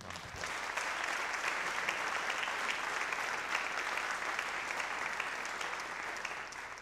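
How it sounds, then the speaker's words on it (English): Applause from the audience at a 2019 high school instrumental concert: a dense, even clapping from many hands that holds steady for several seconds with no voices over it. "give them one more round of applause."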